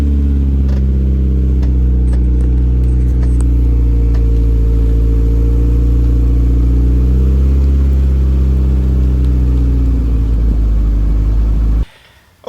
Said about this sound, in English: you have just finished watching the 86, Adrian's 86, finally on the road